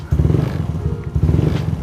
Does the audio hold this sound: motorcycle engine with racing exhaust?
yes